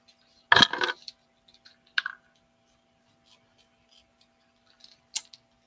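Scissors snip the tails of a small-to-medium red ribbon bow, a close, crisp cut followed by a couple of lighter snips and a final quick clip after a pause.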